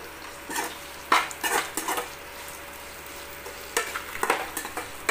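Food sautéing in a pan, likely with spring onion greens, under a soft continuous sizzle, with intermittent sharp scrapes and clinks of a utensil stirring against the pan in short clustered bursts.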